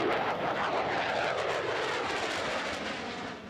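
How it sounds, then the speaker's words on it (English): An F-16 fighter jet flies past at the Thunder air show in Louisville, a loud, continuous broadband engine roar that holds steady, then eases slightly at the end. "you can see the plane there flying close to the speed of sound"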